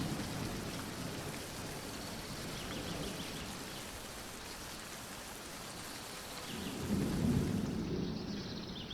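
A forest thunderstorm brings steady rain pattering on surfaces and a low rumble of thunder that swells toward the end, moderately quiet and with no voices.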